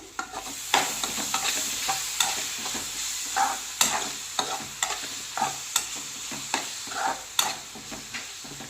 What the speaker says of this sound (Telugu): ఇప్పుడు ఈ ఉసిరికాయ మొత్తం పచ్చివాసన పోయేంత వరకు వేయించుకుందాము